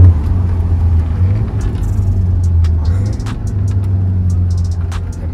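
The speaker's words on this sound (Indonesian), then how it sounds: "Tembakannya cakep sih. Ini knalpot dewasa lah." A BMW F30 diesel with a new aftermarket exhaust idles steadily, a deep low rumble held throughout at close range, with faint clicks and brief higher noises over it.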